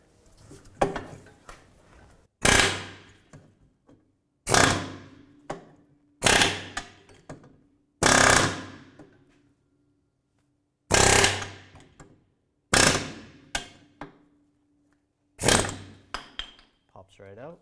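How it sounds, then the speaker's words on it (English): An air hammer fires in short, loud rattling bursts, about eight of them, separated by brief pauses of quiet, while removing an old lower trailing arm bushing from a 1997-2001 Honda CR-V. "We're going to use an air hammer to remove the old one."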